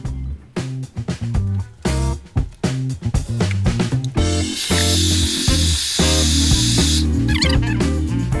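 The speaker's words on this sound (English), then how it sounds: "I have to get a hairdryer to heat up the edges" A steady, loud hair dryer hiss runs for a few seconds over rhythmic music, then cuts out while the music continues.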